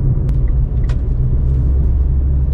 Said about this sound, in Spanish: Hostia, vaya tráfico, ¿no?